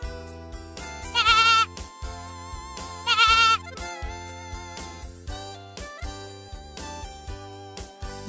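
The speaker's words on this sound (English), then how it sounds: "goat" A goat bleats in two loud, wavering cries spaced about two seconds apart, standing out over steady background music.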